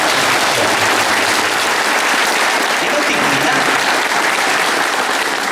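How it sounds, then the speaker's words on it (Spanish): Dense, steady audience applause fills the whole stretch, loud and close, a continuous wash of many hands clapping at an outdoor community gathering about dams in southern Huila. "un gran aplauso"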